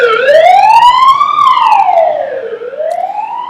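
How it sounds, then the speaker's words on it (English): A loud wailing emergency vehicle siren sweeps up and down in pitch continuously as it passes, close by and steady, with faint road noise underneath. "sorry for the siren here in the background"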